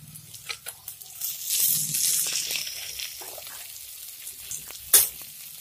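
Spices and coriander hit hot oil in a tempering and sizzle with a bright crackling burst that fades into a softer hiss, with a sharp pop near the end.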